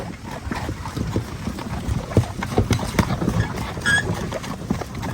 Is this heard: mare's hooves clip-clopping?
yes